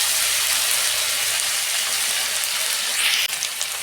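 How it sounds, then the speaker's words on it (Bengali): Garlic and ginger sautéing in hot oil for a rohu fish curry, a steady close sizzle and crackle with a brief clink of a utensil near the end, no talking. "আমি 2 মিনিট কষাবো।"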